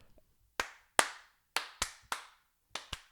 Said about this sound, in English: No, slow clap. That's all they get.